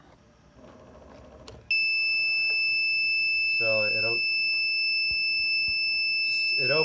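A force gauge meter's overload alarm cuts in with a sharp, steady high-pitched tone that holds for several seconds, loud and close, while someone speaks briefly over it.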